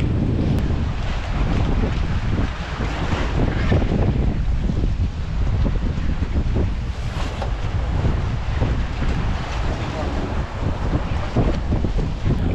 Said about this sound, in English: The next boat departing is ours.